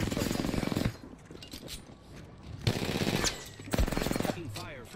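Bursts of automatic gunfire from the Apex Legends video game, with loud rattling volleys of roughly a second each separated by quieter gaps, sounding close and sharp.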